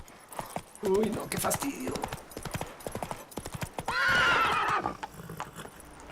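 Hooves clip-clop and a horse whinnies loudly in The Witcher 3 game, with someone speaking in Spanish over the rhythmic hoofbeats.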